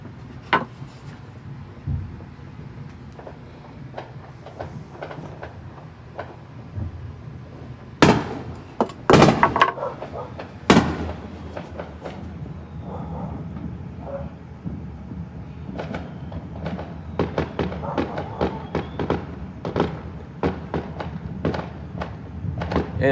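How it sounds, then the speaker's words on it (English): Fireworks going off at night during American holiday celebrations in 2024, with scattered sharp bangs and a few loud close bursts over a low distant rumble, irregularly spaced throughout. "these fireworks will continue to go on until at least midnight"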